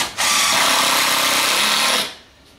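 A power drill drives a screw through a timber joist into a bearer in one loud, continuous whirring burst of about two seconds, then stops abruptly.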